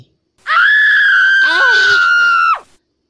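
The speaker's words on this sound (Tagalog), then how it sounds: "Nakakabingi ang sigaw ng manananggal matapos pagmasdan ang mga mahapding hiwa sa kamay niya." A dramatized shriek of a manananggal, the winged creature of Filipino folklore: a single loud, piercing, wavering scream lasting about two seconds that breaks briefly in the middle before cutting off.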